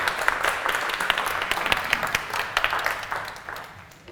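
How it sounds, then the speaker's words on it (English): An evening audience at a business talk applauds its first guest speaker, a dense burst of clapping from a small crowd that thins and fades out over a few seconds, with no voices over it. "Can we have a round of applause for our first guest speaker this evening"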